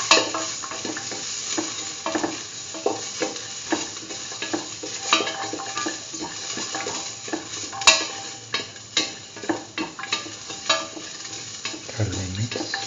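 A ginger, garlic and mung bean mixture for a curried egg stew is stirred in a hot pan, with a constant sizzle under repeated scraping strokes of a utensil, close and loud, with no talk.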